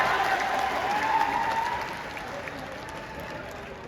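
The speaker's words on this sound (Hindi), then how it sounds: "ताली" An audience at a political speech breaks into loud, sustained applause that fills the space, then eases slightly toward the end.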